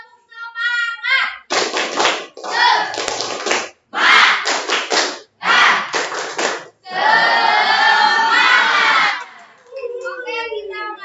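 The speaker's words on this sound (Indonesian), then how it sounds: "Coba tepuk semangat." An audience at an Indonesian teacher training session performs a rhythmic group 'tepuk semangat' enthusiasm clap. Loud, patterned bursts of many hands clapping in quick sets, separated by short pauses, build to one longer sustained burst near the end.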